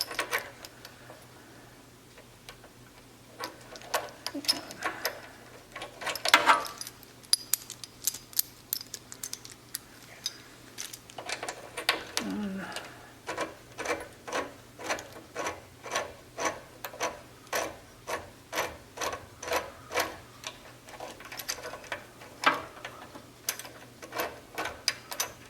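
Ratchet clicking while turning a 10 mm socket on an antique Jari underwater weed cutter, a long run of sharp, evenly spaced ticks at close range, steady and fairly quiet with brief pauses.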